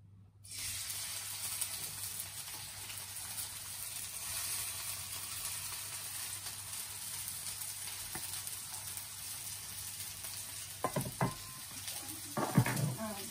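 Chopped onion sizzling in hot oil, a steady broadband hiss of frying that holds evenly throughout, with a few brief louder clatters near the end.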